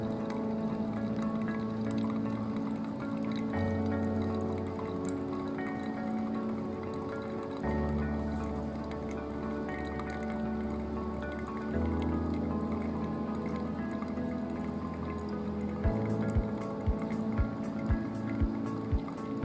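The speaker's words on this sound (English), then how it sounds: "Pour hot water until the surface is flat" Hot water trickles and drips steadily onto coffee grounds in a hand-drip brewer, a soft close liquid patter that runs on for many seconds, with a few sharper drops near the end.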